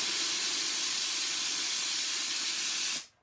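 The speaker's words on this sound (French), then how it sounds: "On va retirer encore un petit peu de pression. Donc j'enlève de la pression." Pressurised steam hisses out of a Lux Neptune steam cleaner in a loud, steady, broadband rush for about three seconds, then cuts off abruptly into near silence.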